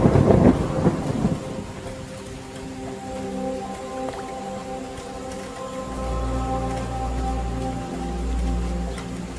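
A thunderstorm with heavy rain on the savanna: a loud close thunderclap rolls away into a steady hiss of rain, and low rumbles of thunder return near the end.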